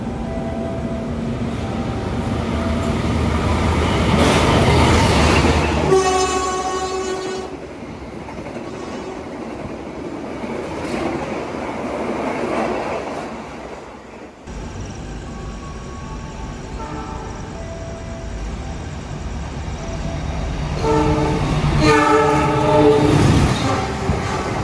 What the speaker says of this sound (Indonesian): kita tunggu Purwajayanya melintas langsung di stasiun Haur Gelis